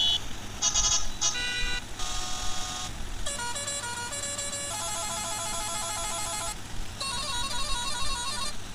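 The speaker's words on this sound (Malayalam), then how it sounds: "ഹോൺ നമുക്ക് വെറൈറ്റി ആയിട്ടുള്ള ഹോൺ നോക്കാം കേട്ടോ" Several motorbike horn sounds cycle in turn on a customised Hayabusa in the Indian Theft Auto video game: loud electronic honks and melodic tone sequences, each a few notes long, over a constant low background hum.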